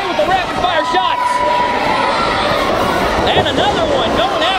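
A large wrestling arena crowd roars and cheers continuously for Konrad at a live event, a dense steady wall of cheering and chatter with whistles and shouts rising over it.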